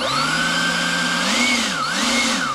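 Kobalt 40V Max cordless leaf blower with a two-speed trigger, running loud and close, its motor whine and airflow rising and dipping in pitch as the trigger is eased and squeezed.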